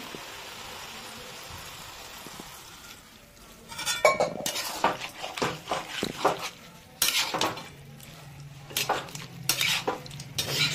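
A spoon stirs moringa flowers with mustard paste, beans, eggplant and potato in a pan after water goes in, giving repeated close metallic scrapes and clinks in uneven bursts over a soft background hiss.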